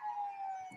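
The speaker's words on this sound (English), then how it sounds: "you can hear the ambulance coming in the background." An ambulance siren at a high school football stadium, a steady wailing tone heard from a distance, briefly joined by a low thump near the end.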